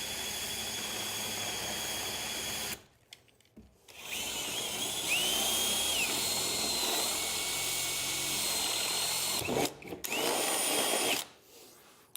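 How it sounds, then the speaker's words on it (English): A power drill bores holes through the sheet-metal body of a van, whining in sustained bursts with short pauses between holes and rising pitch as the bit spins up, close and loud with no talking. "You don't have to go full speed on the drill."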